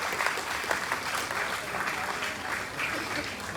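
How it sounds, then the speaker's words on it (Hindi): A crowd at a Hindi comedy or motivational show claps fairly quietly and evenly for a few seconds, a continuous, somewhat thin patter of applause heard from a distance. "तालियां फिर कमजोर है यार तुम्हारी"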